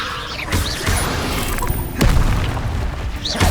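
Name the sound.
Confringo explosive spell blast, video game Hogwarts Legacy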